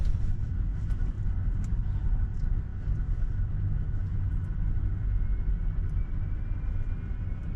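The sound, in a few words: Tesla car driving away from airport curb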